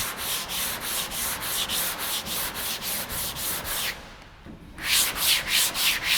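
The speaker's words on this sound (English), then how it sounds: "you lay the guide coat on the area and then pretty much just kind of blocking it in a crosshatch" A sanding block works guide coat over polyester filler on a first-gen Cummins truck body panel in crosshatch strokes. The close, steady, rhythmic scraping pauses briefly near the end, then resumes.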